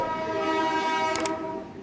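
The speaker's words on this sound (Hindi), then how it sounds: "ट्रेन आ गई है, चलो चलते हैं।" A train pulling into a railway station platform in Pakistan, a long sustained horn with steady harmonic tones over rumbling station noise, close and loud with a couple of brief clanks near the end.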